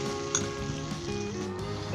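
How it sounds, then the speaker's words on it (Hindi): Eggs fry in oil with spices, vegetables and poppy seeds for a khaskhas salan, a continuous close sizzle holding steady with no speech. "चलिए ये तीनों अंडे शामिल करते हैं इसमें। और 5 मिनट के लिए हम इसे अच्छे तरीके से भूनेंगे।"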